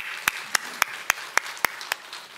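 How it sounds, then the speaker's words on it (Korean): Seven sharp, evenly spaced handclaps at roughly quarter-second intervals from a church congregation at a 70th-anniversary worship service, each crisp and distinct over a quiet background. "우리 하나님께 영광의 박수 한번 올려드리겠습니다."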